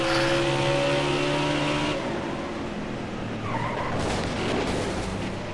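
A race car in NASCAR Heat 4 spins out, its tires squealing in a long skid under a loud droning engine. The pitch shifts midway and the scrubbing grows rougher toward the end, with no voices.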